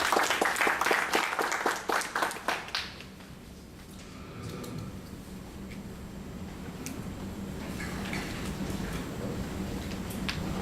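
An audience at a Yahoo India talk gives a short burst of applause welcoming two speakers. The clapping is loud for about three seconds, then fades into a quiet room murmur with faint shuffling.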